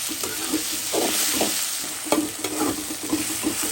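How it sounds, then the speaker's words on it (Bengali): Hilsa fish frying in a pan while being stirred, a constant close sizzle broken by repeated scraping and knocking strokes of a spatula, no speech. "অনেক ভাজা ভাজা হতে থাক"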